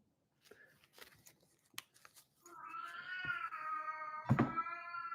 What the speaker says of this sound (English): Did you hear that? That was the cat.